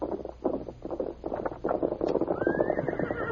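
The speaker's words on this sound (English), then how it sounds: "Horse coming." Galloping horse hooves approaching for a radio drama, rapid clip-clop beats growing steadily louder and nearer over a low rumble, ending in a rising whinny.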